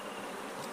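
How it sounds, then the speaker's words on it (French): A swarm of bees buzzes inside a baobab tree in an African village, a dense continuous hum with no pauses and no voices. "ces villageois ont repéré un essaim d'abeilles à l'intérieur de ce baobab"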